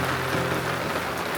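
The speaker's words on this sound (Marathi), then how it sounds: "पाऊस पडतोय आणि आम्ही चाललोय टाकळी आणायला." Steady rain falls in a rural village, giving an even, unbroken hiss of drops all around.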